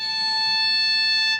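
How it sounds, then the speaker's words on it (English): A violin sounds a single sustained A harmonic, a pure, steady, glassy tone held for over a second, close and alone. "You're going to play an A harmonic."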